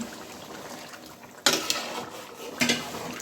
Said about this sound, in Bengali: এখন আমি একটু গরম পানি দিয়ে দেব